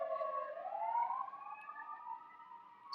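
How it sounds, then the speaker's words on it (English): An emergency siren wails from a distance, its tone rising and sliding in a smooth sweep as it passes, fairly faint and alone with no talking. "I just want the siren to pass."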